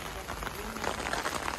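Rain falls outdoors at a hypercar gathering with Bugatti cars lined up, a dense patter over a wet surface mixed with faint background voices.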